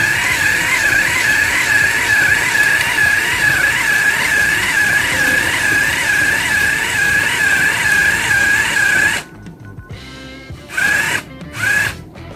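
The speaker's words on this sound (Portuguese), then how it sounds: "temos o motorzinho funcionando" Small battery-powered motor spinning a homemade cosplay chainsaw prop, a steady high whirring hum that runs for several seconds, then cuts off and gives a few short bursts as it is switched on and off, close to the listener.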